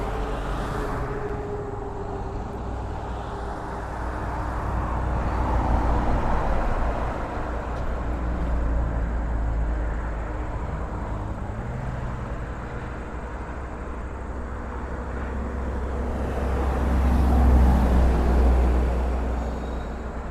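MD-11 airliner on approach to Toronto airport, a deep rumbling engine roar that swells, eases and builds again over about twenty seconds, heard from a distance outdoors with no talk.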